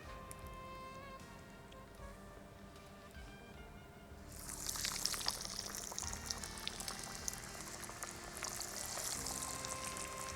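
Cutlets dropped into hot oil burst into loud, frothy sizzling about four seconds in, after a quieter stretch with background music; the crackling fry then carries on steadily.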